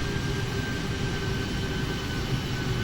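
Boeing 747 jet engines in the PMDG flight simulator hold a steady, loud broadband roar with a low rumble and a thin whine on top, unchanging throughout.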